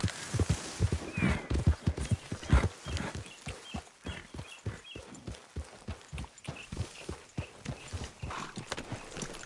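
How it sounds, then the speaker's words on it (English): Rapid, steady hoofbeats of a horse clip-clopping in a video game, loud and close, with a brief whinny early on and no talking. "we don't need that horse pounding all over the place"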